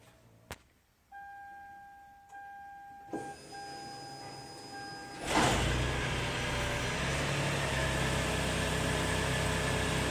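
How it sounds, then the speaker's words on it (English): Remote start on a Lexus RX400h hybrid: a few beeps and a soft electric motor whir come first, then the gasoline engine catches and runs on at a steady, moderately close idle, with no talking. "You hear the electric motor come on, then the gasoline engine."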